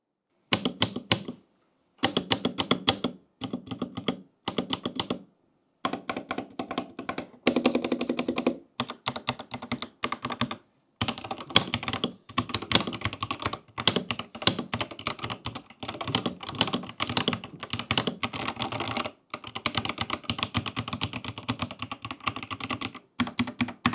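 Steady typing on a Royal Kludge mechanical keyboard fitted with turquoise Sky Cyan switches, close and clear. Dense bursts of key clacks with short pauses and a few heavier thocks, no talking.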